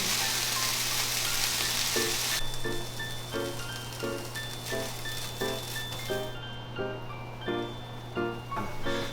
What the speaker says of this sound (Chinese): 把这个4个面都要煎一煎